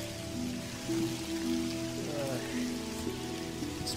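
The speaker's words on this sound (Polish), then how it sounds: "Sporo pada." Rain patters steadily on leaves and ground in an oak forest during mushroom picking, a soft continuous hiss with scattered drops close by.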